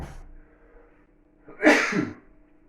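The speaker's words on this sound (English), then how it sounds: "I sneeze." A single loud, sharp sneeze bursts out after a quiet stretch, close to the listener, with a faint murmur at the start.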